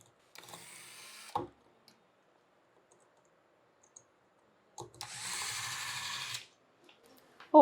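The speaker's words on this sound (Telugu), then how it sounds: "ఇది స్క్రూస్ ఫిట్ చేసుకునే మిషన్ మేడం." Screw fitting machine on an LED bulb manufacturing line, running in two bursts of whirring mechanical noise, a short one and then a longer one, separated by quiet gaps with a few faint clicks and no speech.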